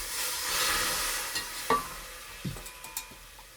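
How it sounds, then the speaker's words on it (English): A whisk working sherry into a cooked roux in a pan for seafood bisque, a soft hissing sizzle at first and then a few sharp metallic clinks and scrapes of the whisk against the pan, heard up close. "Now I'm going to go ahead and add the sherry. And you need a whisk."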